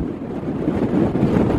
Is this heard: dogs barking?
no